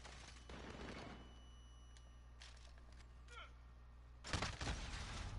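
Gunfire in a Modern Warfare game, heard faintly at a distance as scattered bangs under low background noise, swelling into a louder cluster of shots near the end.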